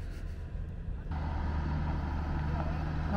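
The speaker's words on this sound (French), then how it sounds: "on entend les camions arriver" Trucks arrive at an abandoned mining site near La Union and Cartagena. After about a second, a low engine rumble swells in and then holds steady at moderate distance over a quieter background.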